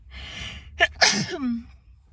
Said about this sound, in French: Je déteste éternuer.